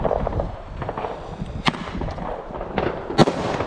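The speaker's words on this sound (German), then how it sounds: "Flashbang!" A flashbang firework goes off outdoors on New Year's Eve amid other fireworks, giving sharp, loud cracks over a steady background of distant bangs and crackling.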